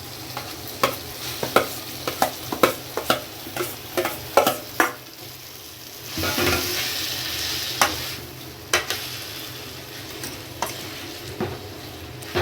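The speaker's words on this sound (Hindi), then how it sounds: "अब देखिए आलू डाल रही हूँ।" Potatoes sizzle in a pan with spices while a spoon scrapes and taps against the metal in quick, irregular strokes, followed by a swell of louder frying. The sound is close, with no talking.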